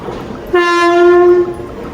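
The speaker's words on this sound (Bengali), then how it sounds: "বলতে বলতে ট্রেন চলে আসে আগে চলে আসছে" A Vande Bharat train arriving at Malda Town station sounds its horn in one loud, steady blast lasting about a second, over the low rumble of the station.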